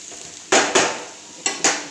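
Onions cooking in a pan for macaroni, with a utensil clinking and scraping against the pan in four sharp bursts over a faint steady background.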